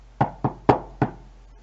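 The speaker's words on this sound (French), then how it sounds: "Sissoum frappe à la porte." Four sharp knocks on a door in a quick, slightly uneven rhythm, close and distinct against a quiet background.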